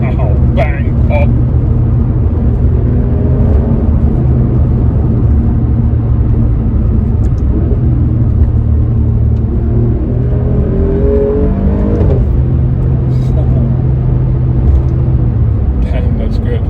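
An Alfa Romeo Giulia Quadrifoglio (2020 model year) gives a loud, steady engine drone with swells of revving and a few sharp exhaust pops. Someone talks over it throughout.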